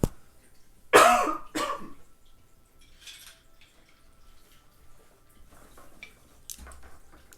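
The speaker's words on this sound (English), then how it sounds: "I feel a coughing attack." A person coughs hard twice, loud and close, in a quiet indoor room, then the room settles into faint clinks and small handling sounds with a few softer bursts near the end.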